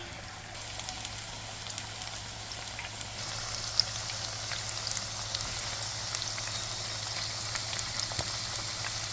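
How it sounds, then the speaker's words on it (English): Chicken pieces frying in a pan for sweet and sour chicken, a steady close crackling sizzle with scattered pops over a low constant hum. "And then of course you want to fry them about 3 minutes on each side."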